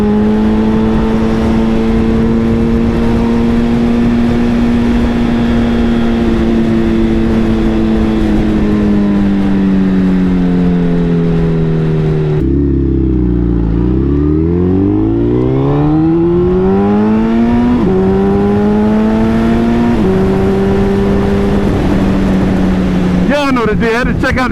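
A Suzuki Hayabusa sport motorcycle rides on a winter road, its engine drone holding steady, then dropping sharply and climbing again through a gear change, loud and close with constant wind rush.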